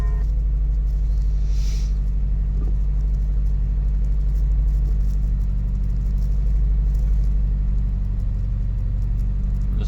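A 2000 Toyota Celica GT idles with a cylinder 4 misfire, holding a steady low rumbling drone close by with slight uneven pulsing and no talk.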